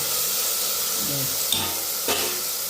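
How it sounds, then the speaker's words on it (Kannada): Vegetables for a vegetable pulao fry in a pan with a steady, close hiss and sizzle, broken by a couple of brief clinks from the pan or spoon. "ತರಕಾರಿ ಹಾಕ್ತಿದ್ದೀನಿ. ಫ್ರೈ ಮಾಡ್ಕೊಳ್ಳೋಣ."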